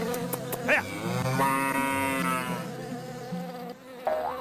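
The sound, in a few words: ox or cow in a cartoon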